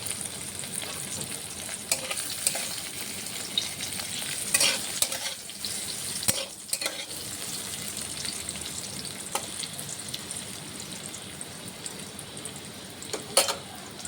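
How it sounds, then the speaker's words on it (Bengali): Potatoes fry in hot oil for a cabbage greens dish, giving a steady close sizzle with intermittent scraping stirs and a few sharper crackles, with no talking. "আলু ভাজা হয়ে গেছে, উঠিয়ে নেব।"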